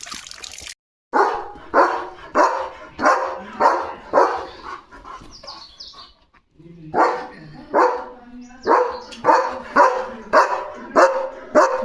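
A German shepherd barks repeatedly in a steady rhythm of loud, close barks, with a brief pause around the middle before another run of barks.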